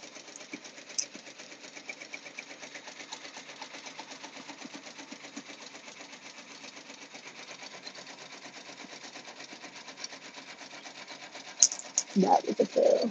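An embroidery machine stitches continuously with a rapid, even mechanical chatter, steady and close, before a short burst of louder handling noise and a voice near the end.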